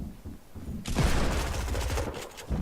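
Pump shotgun fire in the video game Fortnite bursts in as a sudden loud blast followed by rapid crackling impacts and booms, close and dense, with another hit right at the end.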